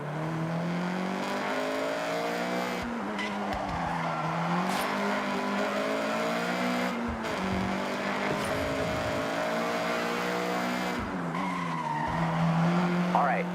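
Honda CRX in Forza Horizon 6 driven flat out, its engine droning steadily with rising and falling pitch as tires squeal and skid through the run, with brief gear-change dips and a louder surge near the end.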